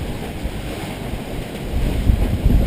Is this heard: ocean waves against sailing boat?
yes